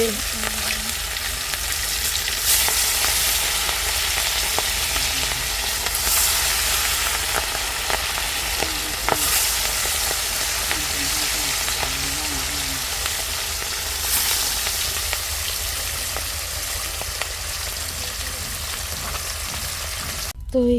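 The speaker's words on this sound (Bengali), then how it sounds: "আমার মাছগুলো সব ভাজা শেষ আর এখানে হলো তেল গরম দিতে দিয়ে দিয়েছি" Hot oil crackles and sizzles steadily in a pan after a batch of fish has been fried, a loud, continuous spitting with occasional stirring and no talking.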